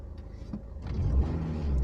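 A 2000 Renault Twingo Alize petrol engine idles steadily, a low, even rumble close by that thickens slightly toward the end, with no talking.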